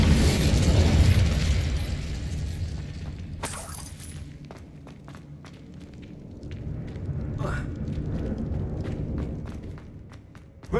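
A fire spell cast in Hogwarts Legacy erupts with a loud, roaring burst at the start. It settles into a steady crackling rumble, with sharp shattering snaps and scattered footstep-like taps following.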